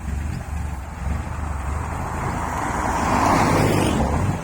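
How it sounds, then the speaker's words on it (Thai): A combine harvester engine, an S900, runs steadily as a continuous low rumble with broad noise, close and fairly loud, swelling slightly toward the end. "รถเกี่ยววัยรุ่นพันล้าน ฟังเสียงบูไหม เสียงบูอยู่ฝั่งไหน"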